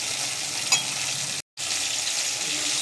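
Garlic and mustard seeds fry in oil with an even, close hiss that runs without pause except for a brief silent gap midway.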